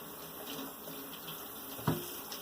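Broccoli being rinsed under a running kitchen tap, a steady close wash of water with one brief louder splash near the end.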